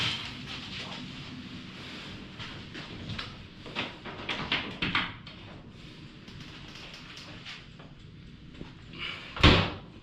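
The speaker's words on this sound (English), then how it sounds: "Close the door so it closes the switch." Door of a Speed Queen commercial dryer, repaired with new rollers and belt, is handled with scattered rattles and knocks before shutting with one loud, close thump near the end.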